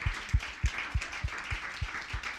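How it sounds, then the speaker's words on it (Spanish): Seminar audience applauding the panelists at an afternoon session, with a steady spread of clapping and sharp individual claps landing about every third of a second, moderately distant and continuous throughout. "un aplauso para, para nuestras panelistas"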